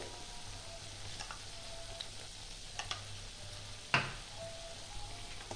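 Spice masala with mustard paste sautéing for Bengali katla fish curry, a soft sizzle in the pan punctuated by light scrapes of a spoon and one sharper clack near the end, quiet and close.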